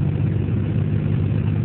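A turbocharged diesel pulling tractor at a tractor pull in North Somerset, engine running way over its rated revs with about 100 psi of boost, gives a loud, close, continuous heavy roar without talk.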